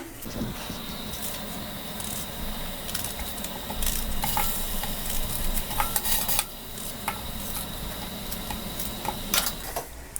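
Onion sautés in a pot for a creamy tomato soup, giving a steady, quiet sizzle with scattered crackles and occasional scraping as it is stirred.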